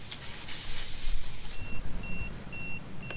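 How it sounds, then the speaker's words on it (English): Steady high electronic beeps from a Tymate TM5 tire pressure sensor alarm on a Coleman 13R trailer, repeating at an even pace over strong wind noise and hiss outdoors. "the sensor will give off this alarm."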